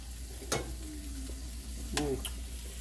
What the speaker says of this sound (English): I want the cabbage to start cooking